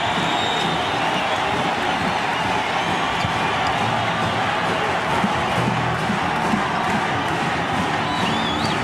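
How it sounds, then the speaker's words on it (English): Basketball crowd at Assembly Hall during an Iowa Hawkeyes–Indiana Hoosiers game roars continuously, a loud sustained wall of cheering and shouting with ball bounces and court noise mixed in. "this crowd is alive"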